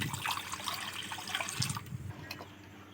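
Water pours into a wok on a gas stove for boiling eggs in a kitchen, a steady close splashing rush that fades and thins after about two seconds, with no talk.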